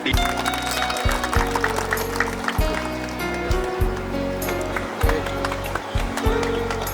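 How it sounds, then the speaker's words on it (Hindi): An audience at a retirement ceremony for a superintending engineer claps steadily and densely, a continuous wash of many hands filling the room, with a deep hum of amplified sound underneath. "तालियां बजती रहनी चाहिए"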